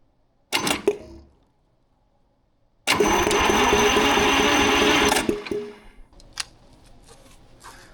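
A Detroit Diesel 6-71 engine with no fuel is cranked over by the starter. After a brief opening burst, a steady, loud mechanical whirring with rhythmic chuffing runs for about two seconds, then stops, and a few faint clicks follow.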